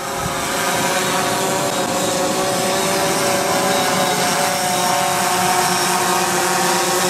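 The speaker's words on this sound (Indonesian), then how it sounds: "drone sudah mendekat dan sudah mau sampai tempat titik kembali" A camera drone hovers close while flying back in to land at its return point, a loud steady high-pitched whirring buzz of propellers with no talking.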